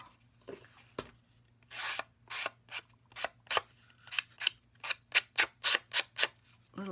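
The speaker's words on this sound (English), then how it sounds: "we'll just burnish that score line in there so that our card lays nice and flat" A tool repeatedly rubbed along a score line on a paper note card, about a dozen short dry scraping strokes, close and fairly quiet, speeding up into a quicker rhythm toward the end.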